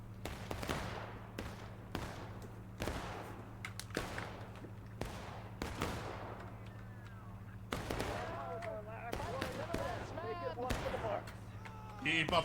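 Repeated musket volleys crack out across a War of Brothers battlefield, sharp shots landing every second or so, some near and loud, others further off, over a steady low drone with faint calls and noise in the background.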